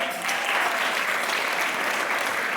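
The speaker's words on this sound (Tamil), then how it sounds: "அரங்கம் நிறைந்த கைத்தட்டல் ப்ளீஸ்." A talent show audience bursts into sustained applause, many hands clapping steadily and loudly throughout.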